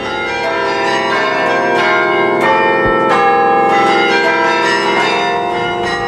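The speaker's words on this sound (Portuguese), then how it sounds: "carrilhões são conjuntos de sinos" Carillon bells in a convent tower ring out loud and sustained, several bells struck in a melodic sequence with overlapping, long-decaying tones and no voices.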